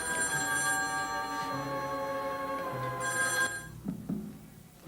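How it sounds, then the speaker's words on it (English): An old-fashioned telephone bell rings repeatedly in bright metallic bursts, fairly close and steady, before cutting off near the end. "Well, aren't you going to answer your phone?"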